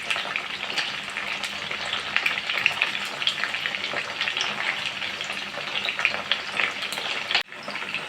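Chicken pieces for restaurant-style chilli chicken fry in hot oil in a pan, a loud, dense, continuous crackling sizzle with occasional spatters, dropping off sharply just before the end.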